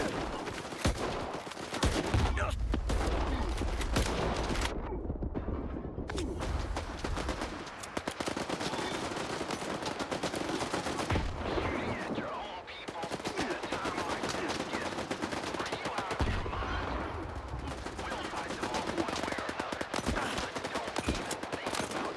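Rapid bursts of gunfire in the video game S.T.A.L.K.E.R. 2: Heart of Chornobyl, loud and continuous with dense automatic volleys through most of the stretch and a brief lull partway.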